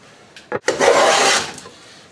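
A hand plane takes a single rasping stroke along a tall wooden board for a Roubo shelf, a short scrape followed by a longer, loud shaving hiss that tapers away.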